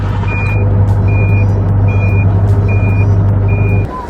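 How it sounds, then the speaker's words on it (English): A large excavator on a junkyard property drives along with a loud steady engine drone and a repeating reversing beep, close by. "The first thing on his list was to drive the excavator to the other end of the property"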